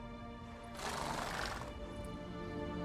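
A horse whinnies in The Witcher 3 video game, a single breathy neigh over a steady hum of game ambience and music, at moderate distance.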